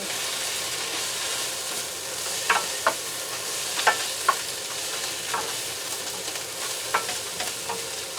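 Beef stirred in a hot pan with thyme and salt gives a continuous sizzle, with the spoon scraping and clinking against the pan in a few sharp, irregular knocks.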